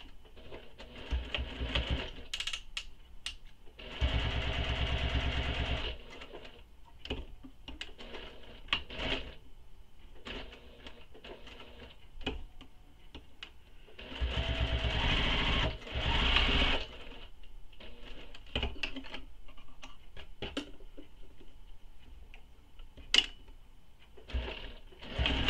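A sewing machine top stitches a bag with a regular presser foot in several short bursts, close and rattling, separated by quiet pauses with small clicks and handling noises.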